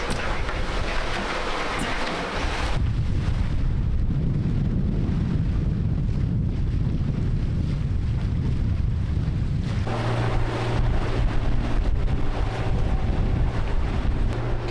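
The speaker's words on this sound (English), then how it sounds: "I got the engine running right now." A sailboat's engine runs while wind buffets the microphone, a constant low rumble buried under loud, gusty wind roar that shifts in strength throughout.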